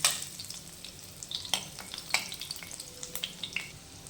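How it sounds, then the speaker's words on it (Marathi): Garlic sizzling in hot oil for a drumstick-leaf (shevga) bhaji, a steady close hiss punctuated by several sharp crackles and pops, with no voices. "इथे तेल आपलं गरम होतंय, त्यात आपण लसूण टाकतोय।"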